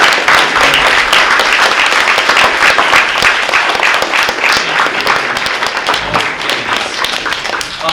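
A crowd applauds a Republican candidate for governor, loud sustained clapping from many hands with sharp individual claps standing out, continuing evenly for several seconds without any talk.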